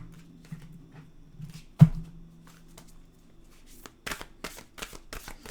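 Oracle cards shuffled by hand, a sharp tap followed by a quick series of close riffling flutters toward the end, with a low steady hum underneath.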